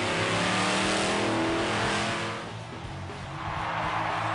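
The Bulldozer monster truck roars continuously at a Monster Jam World Finals freestyle run, its huge engine loud and revving, dipping slightly midway before surging again, with no voices.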